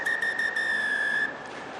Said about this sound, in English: whistle blowing on 79:58